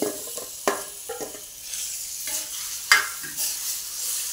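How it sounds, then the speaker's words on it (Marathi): Mashed brinjal bharit with chilli powder is sautéed in oil on low heat, a steady sizzle broken by several sharp spatula scrapes and knocks against the pan. "चांगलं 1-2 मिनिटं असं परतून घ्यायचं तेलावरच"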